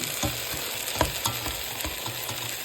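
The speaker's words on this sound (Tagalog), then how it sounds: "Dahil ako'y nagugutom, nagluto ako ng mushroom. Mushroom na may itlog." Mushrooms and egg fry in a pan, a close, steady sizzle broken by several sharp scrapes and taps of a utensil stirring the food.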